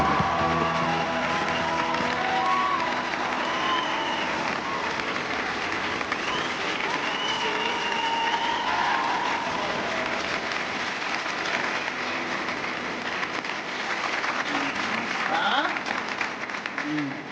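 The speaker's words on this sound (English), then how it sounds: "your applause goes to Bruce Beresford" Studio audience of a television talk show applauds as film director Bruce Beresford comes on, sustained clapping with cheers and whoops over music, steady and lively throughout.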